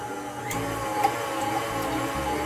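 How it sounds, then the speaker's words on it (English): An electric mixer beats eggs with a pinch of salt, a steady droning whir with a faint rattle against the bowl, running continuously and close. "Lower the mixer and beat the eggs"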